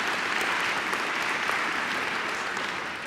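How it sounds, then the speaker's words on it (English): An audience at an evening talk claps for a speaker, dense steady applause from a full room at constant loudness, easing slightly at the end. "Go ahead, clap for him on that one."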